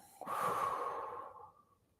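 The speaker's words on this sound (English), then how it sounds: "Breathing out long." A long, slow exhale during meditation, one close, airy breath out that starts abruptly and fades gently over about a second and a half, with no talk.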